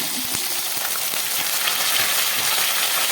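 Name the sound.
potatoes and green chillies frying in a pan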